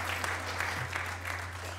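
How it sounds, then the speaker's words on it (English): Applause at a city council reorganization meeting in Linden, a steady burst of clapping from the audience filling the room for a couple of seconds with a low hum underneath. "Now you can applaud, come on."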